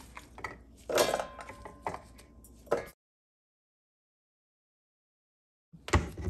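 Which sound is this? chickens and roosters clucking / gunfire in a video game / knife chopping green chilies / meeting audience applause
knife chopping green chilies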